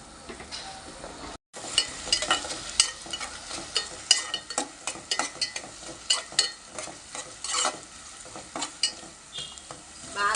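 Sliced onions sizzle in hot oil with a pinch of salt for potato korma, a steady crackling fry broken by frequent scraping and clinking stirs close up.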